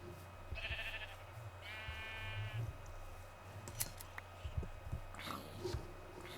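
Sheep in the Minecraft video game bleat several times in quick succession, a pair of short game bleats near the start, over a low steady background hum with scattered clicks and taps.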